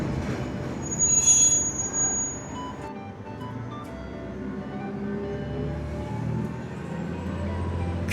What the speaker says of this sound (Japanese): 九谷駅を出発しました。